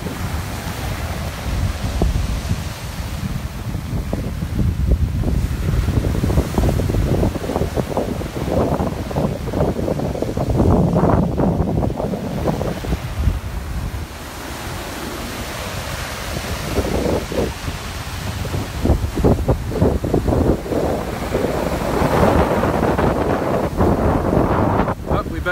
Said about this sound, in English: Let's get a little closer to the waves.